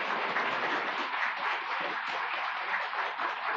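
A crowd at a Buddhist water-and-land ritual at Jingwansa temple claps for the temple's monks, a steady, even roar of applause that holds for the whole stretch.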